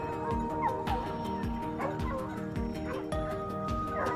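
A hunting dog barks repeatedly in quick, steady bursts during a wild boar hunt, loud and close, with no talking.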